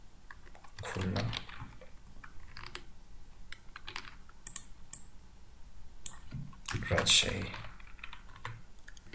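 Typing on a computer keyboard while entering form text: scattered soft key clicks in short bursts, close and fairly quiet, with someone speaking over them.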